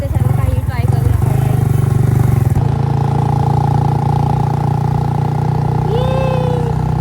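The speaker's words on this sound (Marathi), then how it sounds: "निखिलने फोन पकडलाय आणि तो एका हाताने बाईक चालवतोय" A motorbike ridden one-handed on a road trip in Konkan gives a steady mid-pitched engine drone with wind rumble, continuous and close throughout, with a brief tonal whine near the end.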